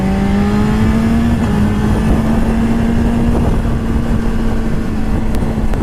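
A 2014 BMW S1000RR HP4 motorcycle engine accelerates while merging onto a highway, its loud, steady tone rising in pitch over close wind rush, with no voices.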